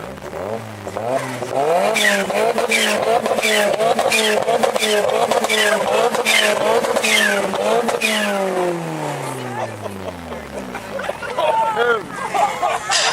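A Mini with a very loud exhaust revs hard at Mini Fest at Stanford Hall, its engine note climbing and falling through repeated blips and then winding down, close and dominant, with a crowd murmuring and people talking underneath.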